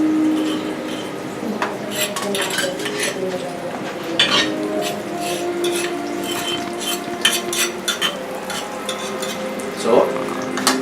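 Bread sizzles in butter in a pan, with a steady frying hiss broken by stirring scrapes and light clinks of utensil on the pan, heard close up while a voice speaks occasionally.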